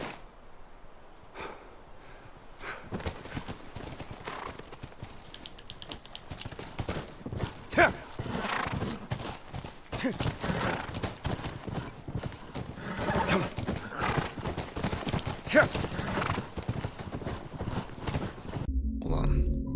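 Horse hooves clip-clop steadily over a busy video game soundscape, with a horse whinnying at times.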